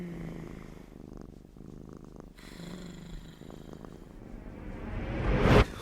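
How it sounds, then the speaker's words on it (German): A cat purrs in a low, rhythmic rumble close by, breathing in and out, and a rising whoosh swells loudly at the very end. "ich höre nur noch ihr Schnurren"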